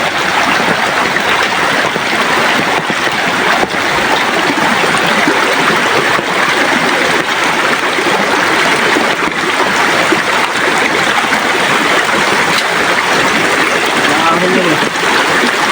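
Strong rushing current of a mountain stream below a waterfall, a steady broadband roar of churning water filling the whole stretch, loud and close with no letup.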